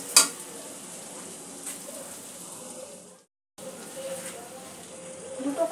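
Potatoes sautéed with spices in a pan, a soft, continuous sizzle with occasional stirring scrapes and a sharper clink at the start, broken by a short silent gap midway before the frying resumes.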